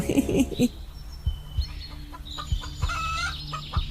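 A few quick clucks from chickens at close range, followed by scattered higher-pitched squawks and rustling.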